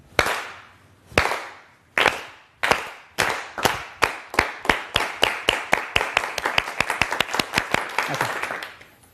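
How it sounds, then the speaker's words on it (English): Individual hand claps from an audience, each one crisp and separate, coming at first with long gaps and then quickening into a steady series of sharp beats that grow denser toward the end. "Go ahead and clap for me."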